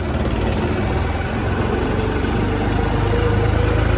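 A 1991 Eicher tractor engine chugs steadily up close, a loud, constant low throb with no voices.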